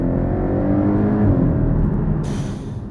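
A car engine drones loudly with a rising, throaty rev that holds and then eases off, heard up close with no talking.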